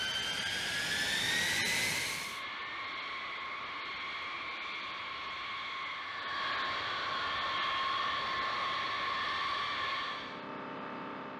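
A B-52 bomber's jet engines give a loud, sustained whine and roar that shifts slightly in pitch. The sound drops at one point and then swells again, with no voices over it.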